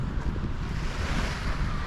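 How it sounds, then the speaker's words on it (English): Steady wash of waves and gusting wind on an empty winter beach, a continuous broadband roar with wind buffeting the microphone and no voices. "And this is the empty beach."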